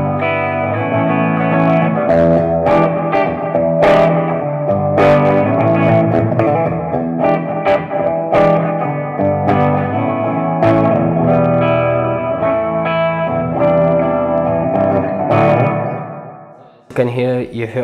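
An electric guitar run through a bass envelope filter pedal plays loud, wah-like filtered notes and chords with swelling, reverberant sustain, then cuts off abruptly near the end into a brief burst of other sound.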